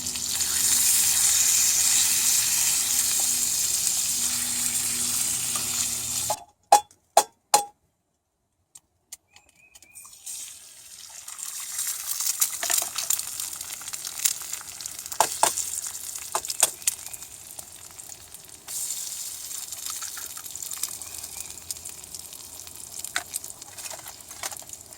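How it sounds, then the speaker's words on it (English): Bacon sizzling in a pan at an outdoor camp, with a steady broadband crackle running alone for several seconds, a sudden cut to near silence, then fainter, patchier sizzling with occasional sharp pops and clinks. "Nothing like the sound of bacon sizzling in the afternoon"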